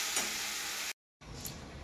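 Saag greens frying in a wok, a steady bright sizzle and hiss with some stirring, cut off briefly before the frying resumes.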